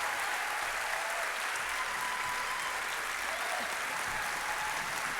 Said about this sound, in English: Take the applause.